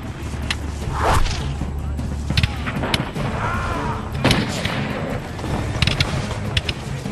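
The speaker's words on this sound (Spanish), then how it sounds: "El humo de los disparos oscurece el entorno y las balas vuelan en todas las direcciones" Battle gunfire sound effect: repeated sharp musket-like shots and whooshing cracks over a dense, loud rumble, spaced irregularly through the whole stretch.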